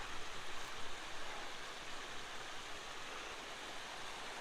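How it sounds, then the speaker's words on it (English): Small forest creek flowing near a truck campsite, a steady soft wash of running water with faint gurgling, continuous and even throughout. "river, our little creek, little stream"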